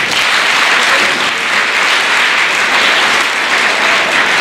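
Loud, dense audience applause at a children's literature conference session in Belgaum, sustained evenly throughout with no talk over it.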